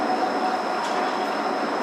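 Riding aboard a Gold Coast tram, a steady interior rumble and hiss of rolling wheels with a faint high whine, continuous and moderately loud.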